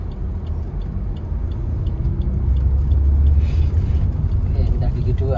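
A Suzuki Ertiga car pulling away in first gear, with a steady low engine rumble that swells slightly as it moves off, heard from inside the cabin.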